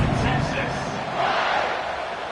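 Stadium crowd cheering and roaring in the Madden football video game before a kickoff, a steady broad wash of noise with swells, mixed with commentary voices.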